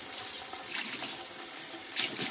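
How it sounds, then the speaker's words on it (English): A kitchen sink tap runs steadily as water splashes through hair being rinsed, a close, continuous hiss with brief splashy swells. "I'm going to turn my sink on and rinse it"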